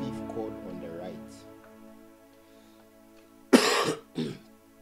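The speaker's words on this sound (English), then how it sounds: "I've been coughing for some time now" After a stretch of low tones, a person gives two sharp, close coughs in quick succession, the first louder than the second.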